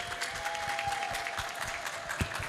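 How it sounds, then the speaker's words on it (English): Audience applause at a live interactive art game event, a steady dense patter of many hands clapping together for the full stretch, moderately loud and close, with no talking over it. "I want you guys to give yourself a round of applause"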